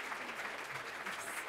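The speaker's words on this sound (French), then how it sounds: "Bravo, bonnement d'applaudissements pour M. Xavier" Audience applause after a wine tasting in Montréal, steady dense clapping filling the room without pause.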